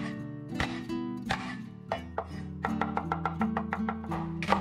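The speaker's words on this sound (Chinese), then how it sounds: "给它拍碎切末" Garlic cloves smashed and minced with a kitchen knife, a run of sharp, close chopping strikes on a board, irregular at first and then quickening into a steady rapid rhythm, with no talking.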